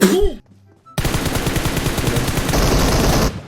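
Rapid bursts of M4 assault rifle fire in the mobile battle-royale game PUBG Mobile, loud and dense, running continuously for several seconds after a brief quiet gap, with no talk over it.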